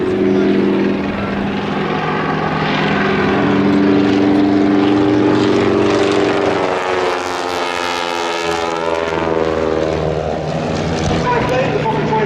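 A Fokker DR1 triplane makes a low pass at an air festival, its propeller engine roaring loud and near and sweeping past with a clear rise and fall in pitch.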